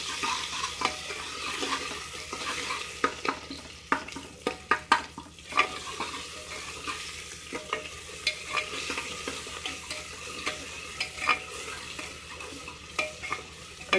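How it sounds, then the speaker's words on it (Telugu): Ginger garlic paste frying in hot oil for a goat trotters and head curry, a steady crackling sizzle broken by frequent close clacks of a spoon stirring against the pan, no speech. "కమ్మటి వాసన వచ్చేదాకా నూనెలో వేగండి"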